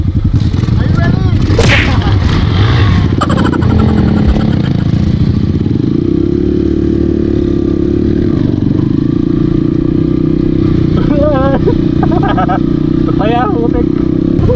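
An off-road dirt bike rides over rough ground, its engine a loud constant buzzing roar with rattling and scraping from the terrain, while people talk over it.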